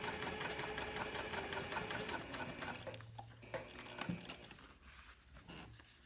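A sewing machine runs steady top stitching along the card slots and ID edge of a key fob wallet, a fast continuous mechanical chatter that slows and pauses near the end.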